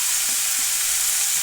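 Cut potatoes, tomato and green chilli fry in a pan with a loud, unbroken hiss of sizzling oil, close and steady throughout the short stretch.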